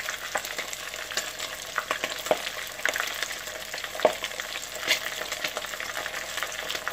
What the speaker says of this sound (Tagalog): Ay, sirap talaga magprito ng bangus dahil siya ay tumatalsik.